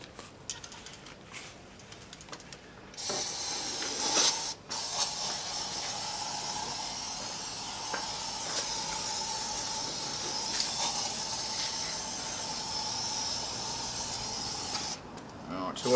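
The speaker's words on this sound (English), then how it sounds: "You just spray it on, let it sit, and then hose it off as per the directions." SCA heavy duty degreaser hisses steadily from a spray nozzle, a sustained close spray lasting about twelve seconds with short bursts before it.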